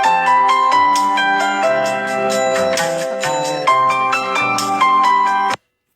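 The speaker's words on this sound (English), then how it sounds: "And there's the phone ringing." A melodic phone ringtone plays a rapid, repeating sequence of bright tones, loud and close, then cuts off abruptly.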